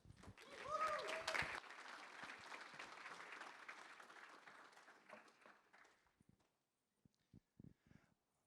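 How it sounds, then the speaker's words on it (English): Conference audience applauding as a presenter comes on stage at a macOS security session, loud clapping at first that fades out over several seconds, followed by a few scattered footsteps and thumps in near silence. "give him a warm round of applause"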